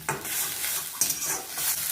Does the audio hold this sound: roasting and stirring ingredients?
yes